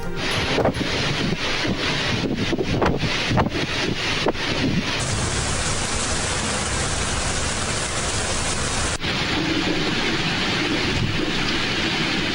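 Heavy downpour with wind in Sindh, Pakistan, in the Islamkot and Nagarparkar area, a dense, steady roar of rain and gusting wind buffeting the microphone, loud and continuous throughout with no talk.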